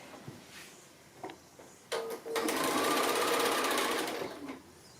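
A sewing machine stitches quilt block rows together, with a few stop-start taps first, then a steady fast whirring run for about two seconds before it slows and stops. No one speaks.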